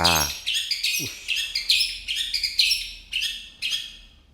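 A magpie-robin sings nearby in a string of bright, varied chirps and whistled phrases, spaced in short bursts.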